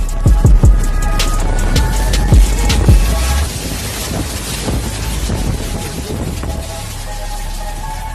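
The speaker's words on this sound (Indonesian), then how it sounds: "hembusan angin mencapai 35 meter per detik di negara itu" Strong gusts from storm Aila batter Saint Petersburg, loud rough wind buffeting the microphone with heavy low rumbling thumps in the first seconds, then settling into a continuous roaring rush.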